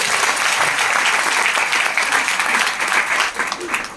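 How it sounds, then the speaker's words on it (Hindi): Loud, dense applause from an audience at a financial training seminar in Nallasopara, a steady wash of many hands clapping without a break for four seconds, with a slight thinning near the end. "तालियां बजाइए ना"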